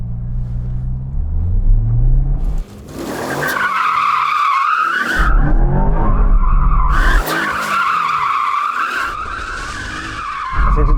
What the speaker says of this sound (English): But to have any chance of hitting those incredible figures, I need to warm up the tyres first.